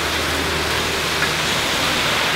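Heavy tropical rain during the rainy season in Bali, a steady dense hiss of downpour filling the whole clip at close range with no speech.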